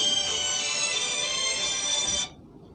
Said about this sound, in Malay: Oh, orang telefon.